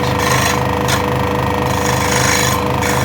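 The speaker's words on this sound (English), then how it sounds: "You can hear it's not cutting, and I'm just rotating and pivoting on the back of that blade." A scroll saw blade runs without cutting while the workpiece pivots on its back edge, giving a loud, continuous rapid buzzing chatter at an even pace, steady and close throughout.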